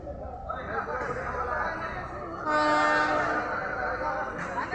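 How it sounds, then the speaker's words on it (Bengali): Train and station ambience at Lalmonirhat railway station, with a steady rumble of rail traffic and a horn-like tonal blast rising partway through, amid background chatter. "লালমনিরহাট রেলওয়ে স্টেশন, মাশাআল্লাহ, অনেক সুন্দর।"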